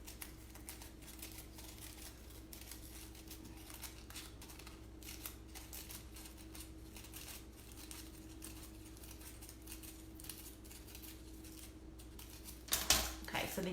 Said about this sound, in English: And you just cut about halfway down little tiny